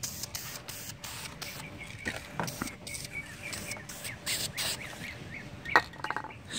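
Bursts of hissing spray paint, several short blasts with pauses between, fairly close, over a faint steady background hum, while painting a mount for an Auxbeam 22-inch LED light bar on a Ford F-150.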